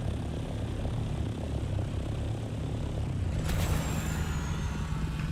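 An ornithopter from the Dune video game flies steadily nearby, a continuous droning engine hum with a rising whine that swells in at midway and holds to the end.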